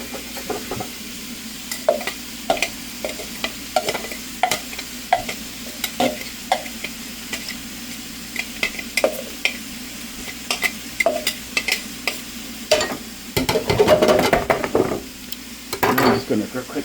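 Garlic fries in a spoonful of roasted sesame seed oil in a pan, with a steady sizzle under repeated spoon scrapes and taps, growing into a louder clatter of stirring near the end.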